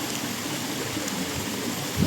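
Continuous rushing of a river flowing close by under shady trees in Negeri Sembilan, a steady even wash with a brief low bump near the end.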